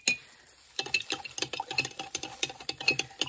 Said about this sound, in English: I'm going to get an old teaspoon and I'm just going to give them a stir